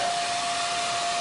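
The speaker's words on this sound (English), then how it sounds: "Going to levitate ping pong balls here with the hairdryer" A hair dryer runs at a constant whir while levitating ping pong balls, a steady airy rush with a faint whine riding on top, close and uninterrupted.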